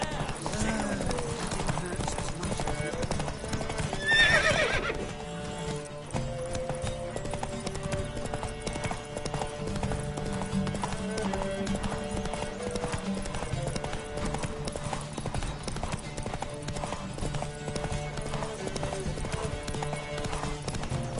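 Steady rhythmic hoofbeats of a galloping horse in The Witcher 3: Wild Hunt continue throughout, with voices talking over them and a brief whinny early on, against background music.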